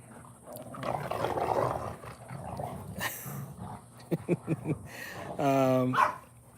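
Dogs in a household pack scuffle over rank, with growls, yelps and a few sharp barks building to a loud whimpering cry near the end, mixed with people talking in the background.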